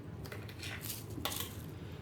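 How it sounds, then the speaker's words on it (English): A knife chops through the last half of a large onion, producing a few sharp, close taps spread across a short stretch with no talking. "chopping up the last bit of onion"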